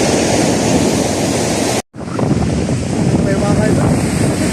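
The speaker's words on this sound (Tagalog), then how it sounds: "Dalaki ang alon." Big ocean waves surge and crash around a small boat in strong wind, a loud, continuous roar with buffeting wind noise and a brief dropout partway through.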